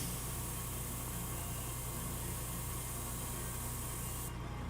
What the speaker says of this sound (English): So this I'm gonna kind of spray on one side.